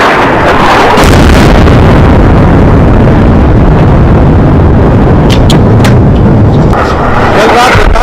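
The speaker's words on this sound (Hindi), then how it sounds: "रात में एक के बाद एक कई मिसाइलें दागे गई।" Missile strikes and explosions over Beirut at night: a continuous, loud, heavy roar and rumble with wind-buffeted distortion, broken near the end by several sharp cracks, with no talk.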